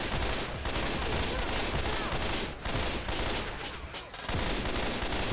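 Continuous heavy gunfire in the zombie shooter Left 4 Dead 2 during a horde attack at a concert, loud dense rapid bursts with only brief gaps.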